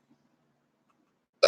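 A single short, loud burp bursts out abruptly at the very end after near silence.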